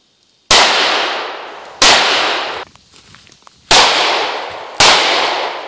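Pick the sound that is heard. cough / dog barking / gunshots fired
gunshots fired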